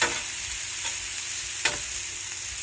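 Chicken fried rice stirred in a hot pan as butter goes in, with a steady sizzle and a few sharp scraping stirs close by, no voices.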